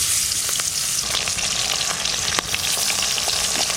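Hilsa fish head frying in hot oil in a wok, a steady dense sizzle with crackling pops and a few sharper spatters, close and continuous with no voices.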